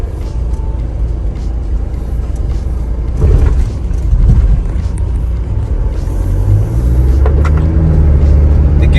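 Inside a 1995 Toyota Hiace Super Custom van on the road, a constant low rumble of engine and road noise that swells as it accelerates, with a rising engine note near the end.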